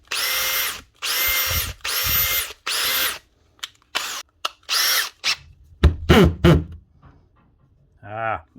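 A Makita DHP484 cordless drill jammed in hammer mode whirs in repeated short bursts, revving up and cutting off with a gritty rattling edge. It is loud and close, with brief voices between the runs.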